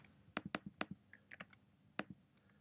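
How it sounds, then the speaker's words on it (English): Computer keyboard keys tapped in short, irregular clusters of crisp clicks, close and fairly quiet, with no voice. "just type in 0, and tab over, and we'll type in"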